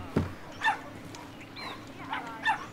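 A beagle in the video game Brothers: A Tale of Two Sons gives two high, thin whimpers about two seconds apart, preceded by a short dull thump, over a quiet game backdrop.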